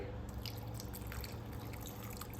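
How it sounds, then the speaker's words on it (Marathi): Hot water is poured into a bowl of dried kokum, a faint, steady watery trickle and dribble lasting throughout, fairly quiet with no voices. "आता त्याच्यामध्ये गरम पाणी घालते"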